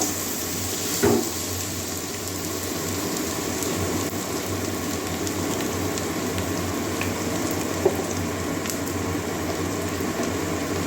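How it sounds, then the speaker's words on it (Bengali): Chopped ginger and garlic fry in hot oil with a steady, even sizzle that holds without pause, broken only by a couple of faint clicks and no talking. "এবারে আদা কুচি দিয়ে দিচ্ছি এবারে রসুন কুচি দিয়ে দিচ্ছি এগুলো কাঁচা গন্ধ যাওয়া পর্যন্ত ভেজে নেব"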